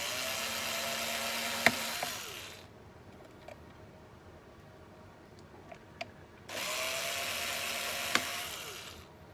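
Power screwdriver whirring in two bursts while backing screws out of a Dell Latitude 5420 Rugged laptop, with quieter clicks and small handling taps between the runs.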